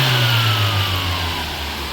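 A carbureted engine in a 1983 K-Car wagon with a 5-speed runs steadily after starting, a loud, close, even drone with no talk over it.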